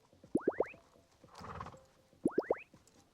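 A horse in the video game Star Stable Online gives two quick neighs, each a rising three-part whinny, with a soft patch of hoof and movement noise between them.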